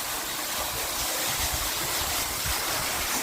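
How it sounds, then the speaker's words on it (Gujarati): Irrigation water runs steadily through a field of mung bean crop, a continuous broadband rushing and gurgling flow heard close and alone, with no voices over it. "પાણી હાલે છે મગમાં"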